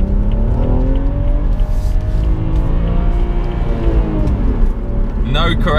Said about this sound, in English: We'll do a full loop in this roundabout in first gear, so maximum power